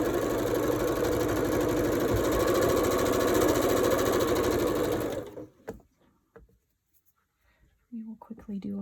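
A sewing machine stitches a quilt block in a fast, steady whir of rapid needle strokes, loud and close for about five seconds, then stops abruptly, leaving quiet handling noises and a brief voice.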